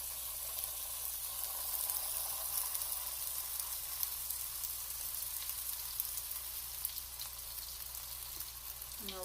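Buttered bread for a Bavarian panini sizzles steadily on a grill, a soft, even hiss with faint crackles that continues unbroken, with no voices.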